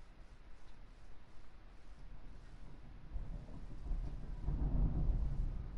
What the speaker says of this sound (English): Wow, it's thundering there.